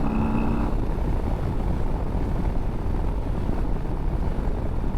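A Harley-Davidson Lowrider ST performance bagger accelerating hard in second gear with traction control cutting in as the rear tire tries to spin, a steady loud engine roar heard close up with no talk.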